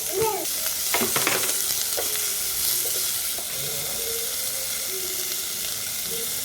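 Onion sizzles steadily in a pan, with a few clattering stirs near the start and then an even, continuous frying hiss throughout.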